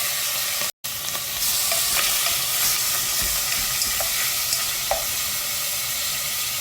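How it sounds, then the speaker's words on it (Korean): Beef shank sizzles steadily in sesame oil in a hot pot, a continuous crackling hiss with faint stirring scrapes. It cuts out for a split second near the start. "사태살 먼저 볶아 볼 건데요."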